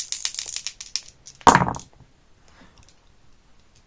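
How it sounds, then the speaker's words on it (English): Dice rolled for a solo sci-fi roll-and-write board game: a burst of clicking rattles at the start, then one loud clattering tumble that dies away quickly, close and alone with no talk. "So I guess I'll just roll the dice and then we'll see what happens."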